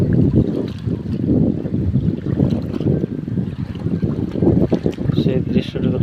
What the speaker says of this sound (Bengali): ঢেউ আর ঢেউ।